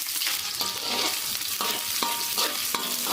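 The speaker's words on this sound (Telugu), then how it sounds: "మంచిగా గోల్డెన్ బ్రౌన్ కలర్ వచ్చేదాకా ఆనియన్ని మనం ఫ్రై చేసుకుందాం." Onion, green chilli, black pepper and cloves sizzle in hot oil in a pan, a steady crackling fry punctuated by regular scraping strokes of a spoon stirring, close and alone.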